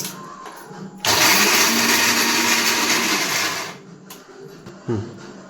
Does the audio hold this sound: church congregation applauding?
no